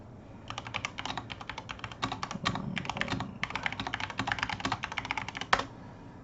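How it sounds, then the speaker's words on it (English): Rapid computer keyboard typing in bursts of quick clicks with short pauses, close and clear over a faint background hum. "apologize for all the typing sounds"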